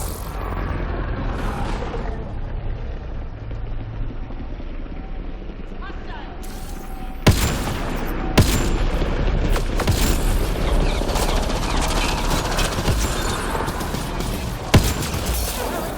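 Gunfire in the sci-fi shooter Mass Effect Andromeda: a few sharp, loud shots crack out over a constant dense rumble of game ambience and action, with speech likely mixed in.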